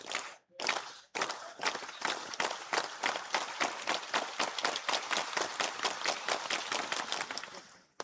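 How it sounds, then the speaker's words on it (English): A stadium crowd gives a rhythmic slow clap at a discus throw competition, loud unison claps that start spaced apart and gradually speed up into a fast, steady beat. "Here we go, round 3 slow clap."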